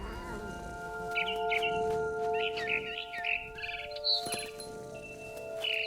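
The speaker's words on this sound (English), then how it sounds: "Then I heard chirping outside my window. It was a barn swallow going back to her nest." A barn swallow chirps in quick short bursts over a steady tonal hum and ambient bed in the game What Remains of Edith Finch, the calls moderately near and fairly faint, with no talking.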